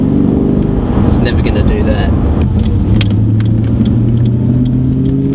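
Ford XR ute engine running with a deep, loud, continuous rumble and some revving, someone talking over it up close.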